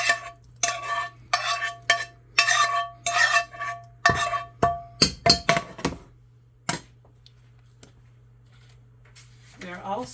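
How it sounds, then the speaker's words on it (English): Mushrooms tumble into a pan already holding Alfredo sauce and bacon, then get stirred, giving a run of quick clinks and scrapes that fade into a quiet hum, with a brief voice at the end. "let's dump in our mushrooms"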